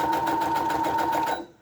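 A sewing machine stitches steadily down the center of paper junk-journal tags, a fast even whir with rapid needle ticks, close and loud, then stopping abruptly near the end.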